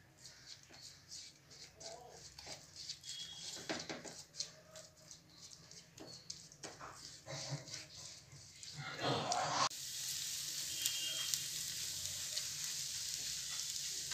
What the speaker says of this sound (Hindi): एलोवेरा पल्प डाल देंगे और इसे हमें कंटिन्यू चलाते हुए सेकना है